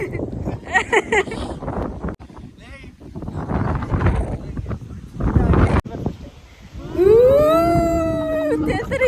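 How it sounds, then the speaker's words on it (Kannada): Strong wind buffets the microphone in loud, gusty bursts while people talk nearby, and a rising, whistling howl joins near the end. "ಸಿಕ್ಕಾಬಡೆ ಗಾಳಿ ನಮ್ಮನೆ ತಳ್ತಾ ಇದೆ ಗೈಸ್"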